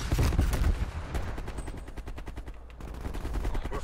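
A newly added machine gun fires on the map Highjack during a team deathmatch, sending out a steady, rapid stream of loud, close shots. The firing continues almost without pause for several seconds.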